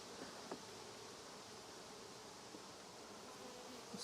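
Honey bees crawling over frames lifted from a strong split ready to move into a full hive give off a soft, steady buzzing drone that runs throughout, faint and close, with a few brief light knocks.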